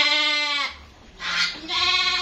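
Texel cross sheep bleating up close, two loud wavering bleats separated by a brief pause with a quieter breathy sound between them.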